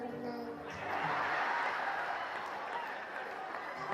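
Audience applause for Lucas at a casual French-language gathering, a dense wash of clapping that swells after a moment and holds steady, with chuckles and voices mixed in.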